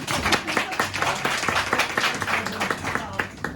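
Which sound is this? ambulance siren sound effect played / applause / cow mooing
applause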